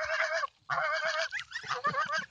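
Geese and ducks being hand-fed cleaned shellfish give loud, close, repeated nasal honks in ragged bursts, with a brief pause before the calling resumes more broken and choppy.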